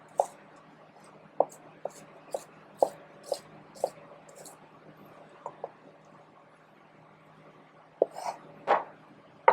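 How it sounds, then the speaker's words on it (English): A knife thinly slicing a leek on a cutting board, a series of soft, close, evenly spaced cuts with brief pauses, then a few quicker strokes at the end. "we're just going to slice it very thinly"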